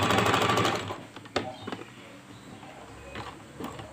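A sewing machine stitching scrap fabric in a fast, loud mechanical run that stops after about a second, followed by softer handling clicks and faint shuffling nearby.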